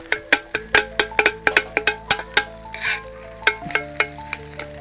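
Metal spatulas chop rapidly on a hot pan, cutting egg kothu parotta in Mangalore street style with coconut oil, a loud rhythmic clanging close by over a light sizzle of frying, with no talking.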